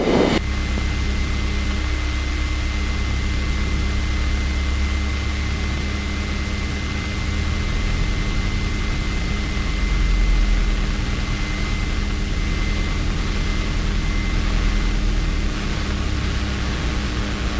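A small airplane's engine drones steadily while taxiing at an airport, a constant loud rumble with a faint tonal hum and no voices, heard from inside the cabin.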